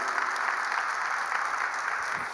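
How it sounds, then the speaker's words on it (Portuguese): A Pentecostal church congregation claps steadily together, a sustained wash of applause filling the room. "Você pode aplaudir o Senhor Jesus."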